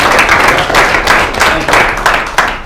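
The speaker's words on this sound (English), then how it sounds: "A big round of applause for Professor Mike." An audience at an entrepreneurship club meeting applauds Professor Mike, a loud, close burst of many hands clapping that swells in rhythmic waves.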